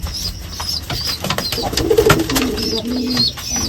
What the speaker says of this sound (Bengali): দেখেন মা কবুতরটা বাচ্চাগুলো খাবার খাওয়াইতেছে